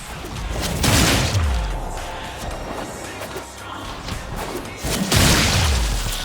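Heavy debris crashing down after an explosion in the video game Warframe, with two loud thudding impacts and rumbling collapses roughly four seconds apart over a steady game background.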